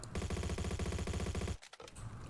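An AS VAL rifle in the Roblox game Bad Business firing one rapid automatic burst of about a dozen evenly spaced shots, loud and close, stopping abruptly after about a second and a half.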